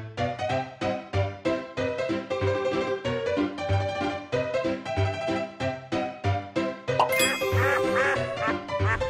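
Rapid, repeated duck quacks sound in a steady rhythm throughout, loud and close, with a brief brighter burst near the end.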